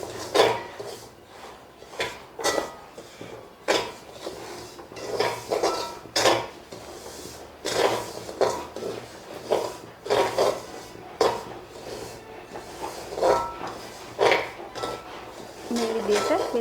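A metal spoon scrapes and clinks against a heated pan as semolina is dry-roasted over low heat, repeated irregular scraping strokes close up, with low background hum and occasional soft voice-like sounds.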